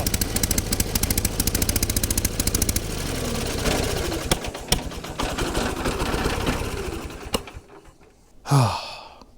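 A big garden tractor engine's starter cranks in rapid, even bursts, gradually laboring and slowing before cutting out, followed by a short exhale and near silence.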